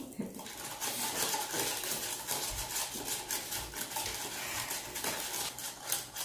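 Homemade slime made with glue is stirred in a bowl, producing steady close clinking and scraping of a utensil against the sides, moderately loud and continuous with brief pauses.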